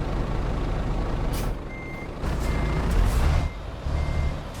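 A truck in the Euro Truck Simulator 2 video game gives off a steady low engine rumble, a sharp hiss of air brakes and a repeated reversing beep, with no talk over it.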